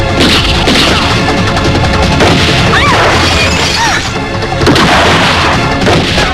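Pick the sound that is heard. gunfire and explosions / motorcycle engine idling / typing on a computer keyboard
gunfire and explosions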